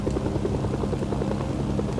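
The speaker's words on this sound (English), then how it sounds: "here's where I needed the North Korean helicopter." Steady rotor thump of a North Korean helicopter in the video game Mercenaries, a continuous near chopping drone holding level for two seconds with no talk.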